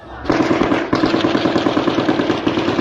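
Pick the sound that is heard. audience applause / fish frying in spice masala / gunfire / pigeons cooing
gunfire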